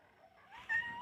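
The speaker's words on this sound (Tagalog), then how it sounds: "Ito yung maingay na pusa" A noisy domestic cat lets out a single short meow near the end, fairly close but soft, over a quiet room with no talking.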